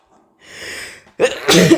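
A single sharp sneeze, loud and close, with a drawn-in breath before it and an explosive burst at the end.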